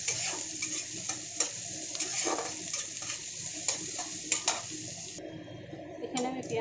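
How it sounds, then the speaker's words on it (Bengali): Marinated chicken is stir-fried with lightly browned onions for a chicken pulao, a close sizzle broken by repeated spatula scrapes and stirring knocks against the pan, with water-like running noise near the end. "এখন আমি ম্যারিনেট করে রাখা চিকেনটাকে দিয়ে দিলাম। এটাকে একটু কষিয়ে নেব।"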